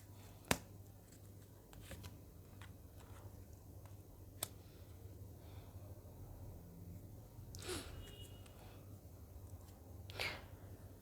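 Tarot cards are shuffled in a quiet room, a few soft riffling bursts and light taps scattered over faint background hum, fairly close and low in level.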